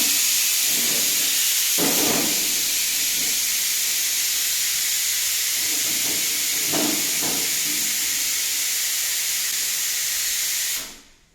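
Mustard oil heating in a wok gives off a steady, loud hiss with a sizzling steam-like wash that runs unbroken for about eleven seconds and then cuts off abruptly. No one speaks over it.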